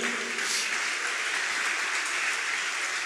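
A church congregation claps together in praise during a sermon, a steady, moderately faint wash of applause lasting about three seconds without speech.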